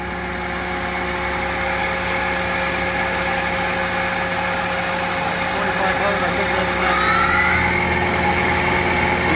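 Spindle of a Union BFT 105 CNC horizontal boring mill turning at 2,000 RPM, heard from close range as a steady, even mechanical hum with faint tonal whine, a brief rising squeal near the end.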